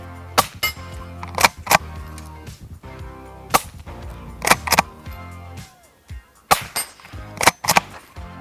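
Subsonic rounds from small-bore ISSC carbines (.22 LR and .17 HMR) strike a steel gong, producing a series of sharp, irregularly spaced metallic cracks with short ringing tails over a quiet outdoor background.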